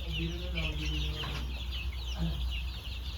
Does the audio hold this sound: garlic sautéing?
no